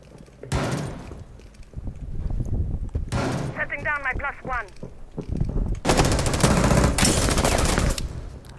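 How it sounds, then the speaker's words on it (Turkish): Automatic gunfire bursts in Rainbow Six Siege, loud rapid rattling volleys in several clusters, the last long sustained burst dense and close, with a voice speaking briefly between shots. "Kim sıkıyor ya?"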